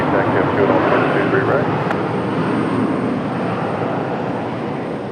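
Aircraft arriving loudly at Raleigh-Durham International Airport: a heavy, broad engine roar close by, slowly easing off, with a tower radio voice talking underneath.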